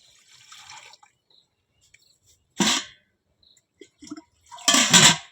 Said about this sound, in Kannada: ಕಡುಬು ಕುದ್ಸಕ್ಕೆ ನೀರು ಬೇಕಲ್ಲ, ನೀರು ಹಾಕೋತೇನೆ.